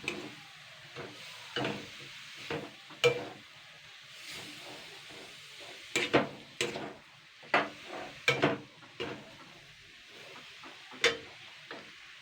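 Soaked radish being stirred into radish greens in a hot pan, a soft steady sizzle broken by irregular clattering scrapes of the spoon, close and with no speech.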